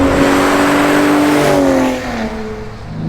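A 2022 Ford F-150 Raptor with a 3.5-litre twin-turbo V6 and equal-length exhaust runners revs loudly up close, a smooth rising engine tone that holds, then drops back after about two seconds.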